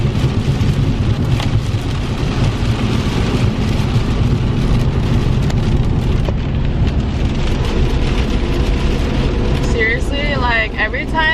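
Heavy rain in Arizona beats down in a dense, constant roar close by, with car and thunder-like rumble beneath, and a person speaks over it near the end.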